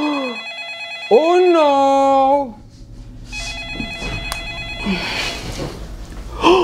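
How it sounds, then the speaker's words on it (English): An old-fashioned telephone bell rings loudly and steadily in repeated bursts, while people talk and exclaim over and around it. "It's old phone calling!"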